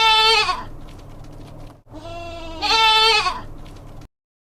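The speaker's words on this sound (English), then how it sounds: "A goat bleats and sounds ma, ma." A goat on a farm gives two long, loud, wavering bleats like "maa," separated by a short pause, with no other sound around them.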